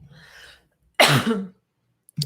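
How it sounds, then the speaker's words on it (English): A single harsh cough bursts out after a short stretch of faint murmuring, followed by a brief softer sound at the end. "I need to cough."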